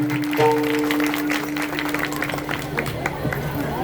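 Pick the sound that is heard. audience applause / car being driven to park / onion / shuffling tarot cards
audience applause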